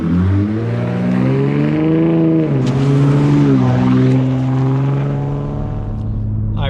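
A loud 2021 Ford F-150 Raptor pickup truck driving on the road, with a steady engine drone that rises in pitch as it accelerates through the gears. The engine stays loud throughout, and a little talk may be audible.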